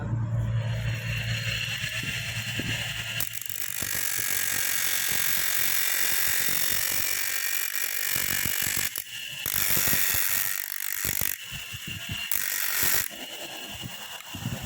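A ratchet wrench turning out a long bolt from a Yamaha XJ400 motorcycle starter motor, a steady clicking and grinding mechanical chatter with brief pauses and shifts, close and continuous throughout.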